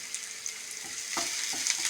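Cumin seeds and curry leaves fry in a pan, a steady bright sizzle with soft stirring scrapes and small pops throughout, close and continuous.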